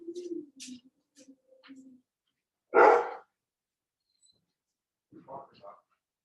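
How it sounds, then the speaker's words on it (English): At home during a package delivery, a dog gives a single loud bark, with faint talk and other small sounds before and after in an otherwise quiet room. "if my dogs freak out, I need to go check it"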